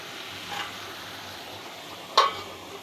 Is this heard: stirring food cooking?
yes